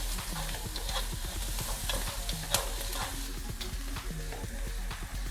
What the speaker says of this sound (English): Let that caramelize a little bit.